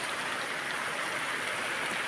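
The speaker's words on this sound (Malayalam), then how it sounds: "അതിശക്തമായ മഴയാണ് പെയ്തുകൊണ്ടിരിക്കുന്നത്." Heavy rain pours down steadily outdoors, a dense, constant hiss with no breaks and no voices.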